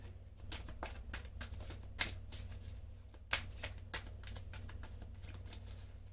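Tarot cards being shuffled by hand in a steady run of soft, rapid flicks and taps, close but quiet, over a low constant hum.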